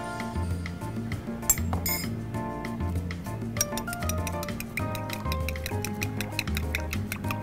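Smoked fish is coarsely chopped with a knife: quick, irregular knife taps and clinks on a board, some in rapid bursts, over steady tonal background music.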